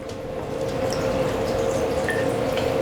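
A cocktail is poured over a giant ice cube, giving a steady close trickle and splash of liquid that builds slightly and runs throughout without speech.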